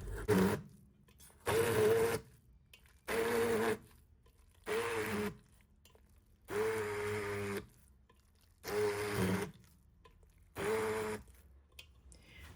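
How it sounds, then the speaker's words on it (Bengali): A hand blender whirs through shami kebab mixture in seven short bursts of a few seconds each, separated by brief quiet pauses, loud and close. "একটা হ্যান্ড ব্লেন্ডারের সাহায্যে ব্লেন্ড করে নিব"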